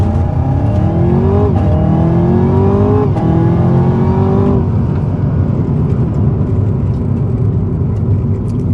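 Camaro ZL1 1LE launching hard from a standstill, engine revving loudly through rising pitch sweeps with sharp drops at each upshift over about five seconds, then settling into steady road and wind roar.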